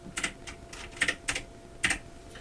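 Typing on a computer keyboard while entering a name into a PowerPoint slide: a quick run of close, crisp key clicks in irregular bursts, with no talking.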